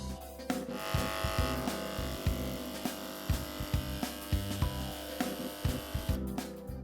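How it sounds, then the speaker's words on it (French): Airless paint sprayer injecting wood treatment into a timber roof frame, a steady mechanical buzzing hum broken by regular sharp clicks and pump pulses about once per second. "Dressez la gâchette pour injecter le produit jusqu'au reflux."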